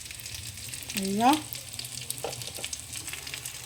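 Chicken pieces frying in butter in a pan for butter chicken gravy, a soft steady sizzle under a brief spoken word and a faint kitchen clatter.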